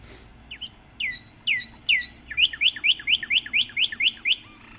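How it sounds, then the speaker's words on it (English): A northern cardinal sings a loud, clear song close by: a few scattered opening whistles followed by a steady run of about ten rapid, evenly spaced downslurred notes, alone against a quiet background. "Here's the song of the cardinal."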